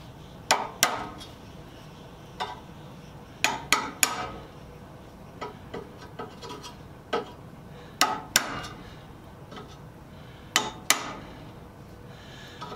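Small hammer tapping the teeth of an old hand saw while shaping them, a dozen or so sharp metallic taps at an uneven pace, close and clear over quiet room tone.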